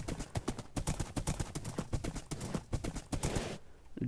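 Rapid clip-clop of a horse's galloping hooves in a video game, quick rhythmic thuds running steadily for several seconds before cutting off near the end.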